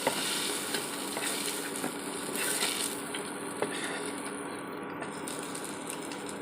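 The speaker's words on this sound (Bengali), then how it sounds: "আমার মাছের মাথা ভাজা কমপ্লিট হয়ে গেল" A fish head frying in hot oil, giving a steady close crackling sizzle with scattered pops and faint clicks throughout, no voices.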